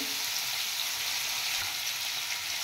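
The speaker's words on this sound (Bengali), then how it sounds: "এবার কুমড়োটা ভেজে নাও দিবি।" Pieces of pumpkin fry in a pan with a loud, steady, close sizzle that holds without a break.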